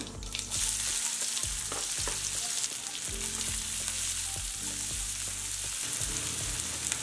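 Chopped onion, mustard seeds and cumin frying in hot oil for oats vegetable upma, giving a loud, steady close sizzle throughout with occasional spoon scrapes and stirring knocks, no voices.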